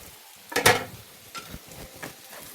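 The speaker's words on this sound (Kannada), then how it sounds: "ಇದೆಲ್ಲವನಿಗೆ ಚೆನ್ನಾಗಿ ಹುರ್ಕೋಬೇಕು" Whole spices, chana, cashews and poppy seeds dry-roasting in a pan, with cinnamon, cloves, peppercorns and cardamom added; a sharp stirring scrape comes first, then softer scattered rattles and light sizzle.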